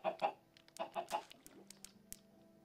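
Chickens in the Minecraft Crazy Craft modpack cluck in a rapid cluster of close, loud clucks, then scattered quieter clucks under a steady game hum.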